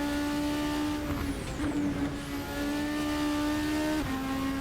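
A Super Formula race car in the Assetto Corsa racing game screams at high revs through a sweeping section, its engine note holding steady with brief dips at gear changes, loud and continuous without speech.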